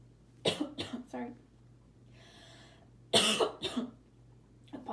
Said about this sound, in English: I had to cough real bad. My throat started getting real scratchy.